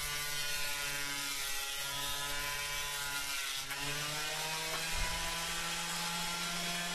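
Wood planer making passes on a board being thinned toward 3/4 inch for a knickknack shelf, a loud steady mechanical roar with slight dips between passes and no talking.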